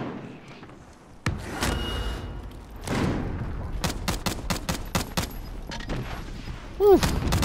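Video game firefight with a rapid string of sharp gunshots and a rocket blast, loud bursts spaced through the stretch, with voices talking over the combat.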